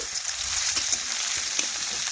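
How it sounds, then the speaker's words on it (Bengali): Chopped onions fry in hot oil with bay leaf and whole cumin, giving a continuous soft sizzle. A few light stirring scrapes break through it, with no talk heard. "পেঁয়াজও একটু নাড়াচাড়া করে ভেজে নিচ্ছি।"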